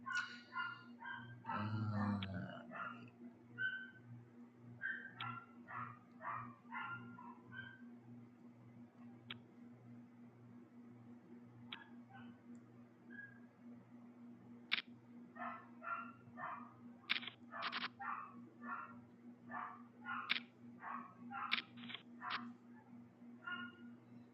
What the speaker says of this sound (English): But that barking's coming from another home over in that direction.